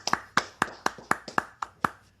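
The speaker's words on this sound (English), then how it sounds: "We're going to give Austin Riley a round of applause right here" A single person gives a round of applause for Austin Riley. There are nine crisp, close hand claps in an even, quick rhythm, with no voices.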